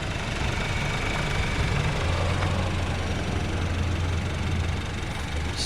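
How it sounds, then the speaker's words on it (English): A 2014 Honda Civic's small gas-saving engine idles on a chilly day, giving a steady low hum and faint rattle, close and continuous with no talk. "Just a little gas-saving motor."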